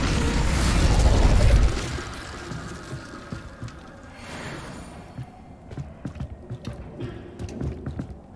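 An Incendio fire spell cast in Hogwarts Legacy: a loud rumbling whoosh of flame bursts out in the first two seconds, then fades into quieter mechanical clicks, pops and game ambience.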